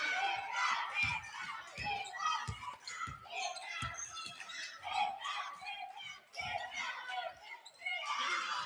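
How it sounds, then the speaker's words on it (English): Spectators at a high school basketball game between the Eleanor Roosevelt Huskies and Lab Museum United Gators grow noisy in a gym, with youthful shouting and chatter over repeated close ball bounces. "Crowd starting to get noisy,"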